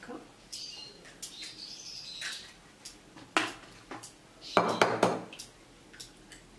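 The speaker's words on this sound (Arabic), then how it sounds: "غنعزل البيض وغنعزل الصفر" Eggs are separated into bowls for a Japanese cake batter, giving clinks of shell and glass, scattered taps and scraping against the bowls, with a louder clatter near the end, faint and close.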